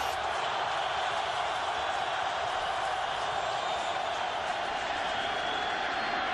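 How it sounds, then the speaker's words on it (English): A large football stadium crowd roars in a steady, continuous wash of noise, loud and far-off sounding, with no pauses and no clear voices standing out. "Crowd gets into it."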